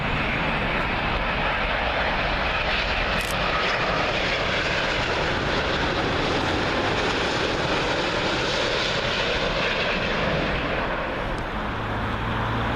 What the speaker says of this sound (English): Arriving up next, British Airways 787 Dreamliner.